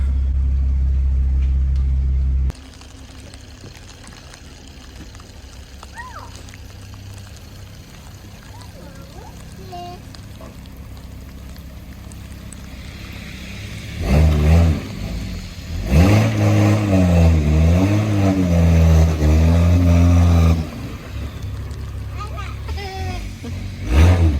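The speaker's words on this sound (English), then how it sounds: "I'm just going to be doing some burnouts in my driveway." A car engine revs hard in a snowy driveway during burnouts, loud rising and falling bursts of revving with spinning wheels after a quieter stretch of idle and low talk between people.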